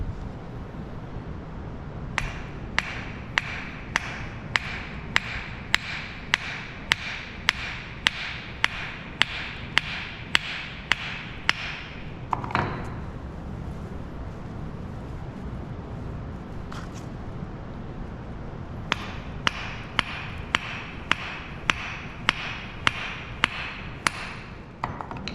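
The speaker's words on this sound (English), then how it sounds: "For that you have to use a piece of cloth like this, and you have to use the hammer." A hammer taps a pellet maker through a piece of cloth to free a pellet for a heat of combustion experiment, sharp metallic knocks in a steady rhythm, paused midway and then resumed in another run.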